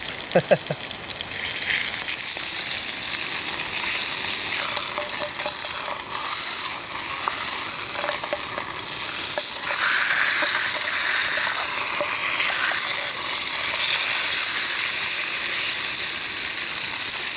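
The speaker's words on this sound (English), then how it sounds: "You heard that sizzle?" Food sizzles and crackles continuously over a campfire in a forest, a dense steady frying hiss with occasional pops, heard up close for a long stretch.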